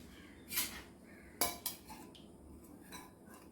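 A pan is set down on a stove, giving a few faint metallic clinks and knocks in a quiet kitchen.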